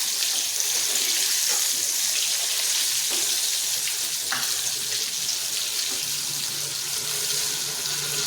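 Chicken popcorn pieces frying in oil in a pan over a medium flame, producing a continuous bright, hissing sizzle with a few scattered pops, close and fairly loud with no talking.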